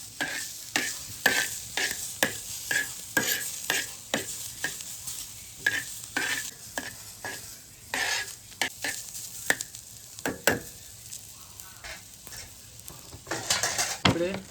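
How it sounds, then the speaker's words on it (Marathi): Onion roasting in a pan for a Kokan-style crab curry, with a busy stream of spatula scrapes and clinks against the metal over a soft sizzle, close up and rhythmic, no voices. "इकडे प्रियंकाने मस्त कांदा भाजून घेते."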